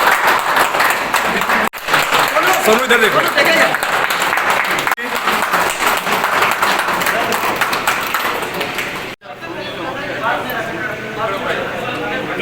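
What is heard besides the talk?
audience applause welcoming guests at a gym opening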